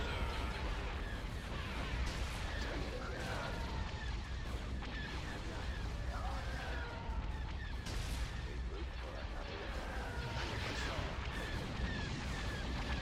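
Laser blasts and proton torpedo fire from starfighters in a Star Wars space battle strategy game, a dense running barrage of shots and bursts layered with explosions, steady and fairly faint.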